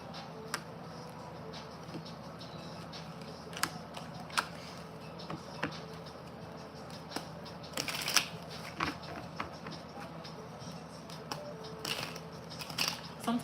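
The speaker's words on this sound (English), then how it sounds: "bear with me while I pull these cards." Tarot cards being shuffled and pulled, with soft riffling and sharp flicks and snaps of card stock at irregular intervals, close up and quiet with no talking.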